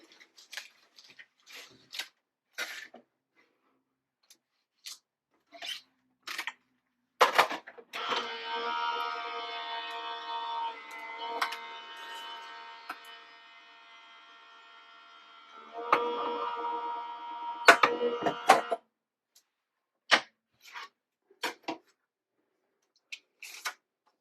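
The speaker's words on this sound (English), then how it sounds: "So I'm going to die cut it and then I'll stamp and emboss on it." A die-cutting machine cuts paper with a steady mechanical whir and grind lasting about ten seconds, framed by sparse clicks and handling noises in a quiet room.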